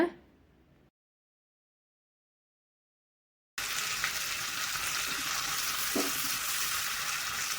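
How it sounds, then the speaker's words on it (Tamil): Nuts roasting in ghee in a pan for payasam give a steady, close sizzling hiss that starts abruptly after a short silent gap and continues evenly with a faint clink partway through. "நட்ஸை வந்து நல்லா ரோஸ்ட் ஆகுற அளவுக்கு விட்டுருங்க"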